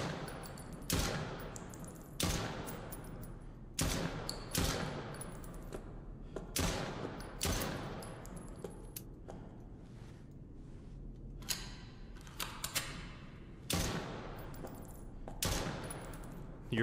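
Gunfire from the horror video game Chuxie cracks out in sharp, separate bursts every second or two, each shot loud and crisp with a short decay, with no speech over it.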